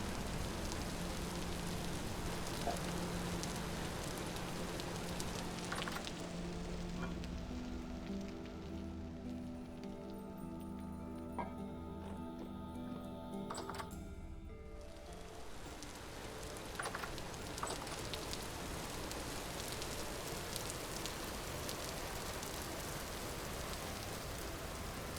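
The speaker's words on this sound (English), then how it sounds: "Also, it just won't stop raining." Steady rain falling and pattering on surfaces, a continuous broadband hiss of drops that runs throughout, with a stretch in the middle where a low humming tone sits underneath the downpour.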